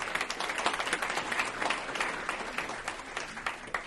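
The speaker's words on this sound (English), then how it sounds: "So maybe a round of applause for that team." An audience applauds a catering team at an event: steady, dense clapping from a crowd, sustained and fairly loud throughout, without any voices rising above it.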